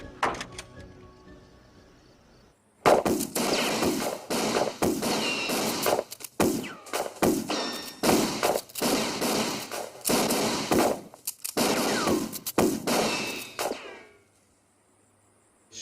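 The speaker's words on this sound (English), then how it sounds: "They're just randomly shooting into a bush." Gunfire in a Halloween 4 film scene as men shoot into bushes: a long run of loud, close, irregular shots and volleys, with brief gaps between bursts.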